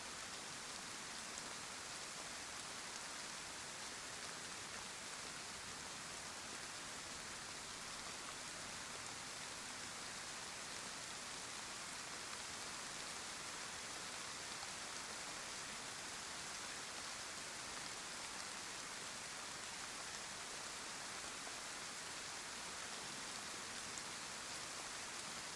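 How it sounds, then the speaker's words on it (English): Steady rain falling across the Chernarus map in the survival game DayZ, a dense, even hiss of countless drops on surfaces that continues unbroken and fairly loud throughout, with no voices. "It's hard to tell with all the rain noise though."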